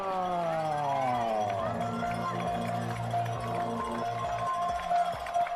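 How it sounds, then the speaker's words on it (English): College football crowd at an Olivet vs Franklin game roars to rouse the Grizzlies defense, a sustained broad cheer with horn-like tones and scattered claps under an announcer's voice. "Crowd trying to get the Grizzlies defense fired up for this one"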